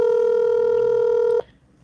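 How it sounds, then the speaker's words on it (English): A telephone tone sounds steady and loud while a call back is being dialed, holding for about a second and a half before cutting off sharply to faint room noise. "Oh, let me try call you back."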